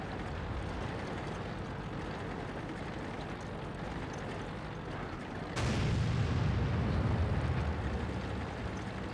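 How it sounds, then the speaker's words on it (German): Tank cannon fire and artillery in World of Tanks gameplay: a steady rumbling battle bed, then a sudden loud boom at about 5.5 seconds with a heavy low roar that lingers to the end, no voices. "Oh, okay, da schießt wer."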